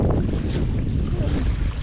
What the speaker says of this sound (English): I'm kind of in the teeth of the wind now.